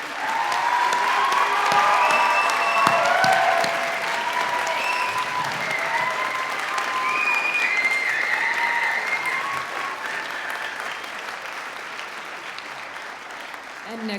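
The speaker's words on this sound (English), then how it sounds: "let's give our students one more round of applause" A graduation convocation audience gives a sustained round of applause for graduating arts students, loud dense clapping that slowly tapers off while a few light whistles ride over it.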